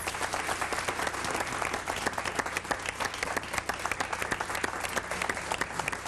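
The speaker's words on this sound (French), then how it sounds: "Janice et Claude, on vous applaudit." A studio audience applauds the winning couple at the close of a Radio-Canada game show, with dense, steady clapping that fills the whole stretch at an even level, with no talk over it.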